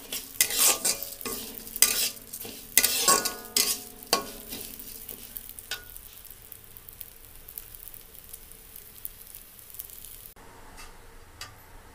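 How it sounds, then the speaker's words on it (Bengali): Dal lentils fry in oil in a pan while being stirred, with repeated scraping strokes of the spoon over a soft sizzle. The stirring thins out after about six seconds, leaving a quieter frying hiss. "ডালটা আমি লাল লাল করে একটু ভেজে নেব তেলের ওপরে"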